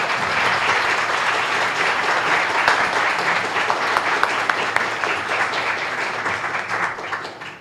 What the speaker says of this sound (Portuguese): O nosso aplauso, então, ao professor Naumar.